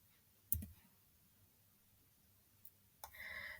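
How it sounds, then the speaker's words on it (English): A single sharp computer mouse click selects a spreadsheet cell, quiet and close, followed by a faint tick and then a brief burst of keyboard-like clatter near the end. "I click the cell"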